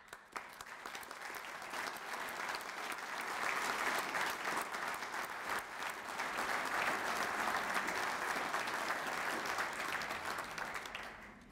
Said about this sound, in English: please stand for a much deserved round of applause